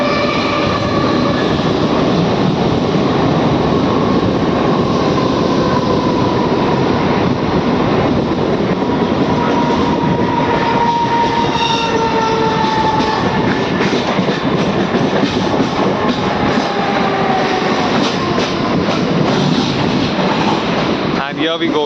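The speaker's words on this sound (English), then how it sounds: "So here is one train." A Mumbai local train roars loudly and steadily for over twenty seconds, with a continuous rumble and rattling wheel clatter and a faint squeal near the end.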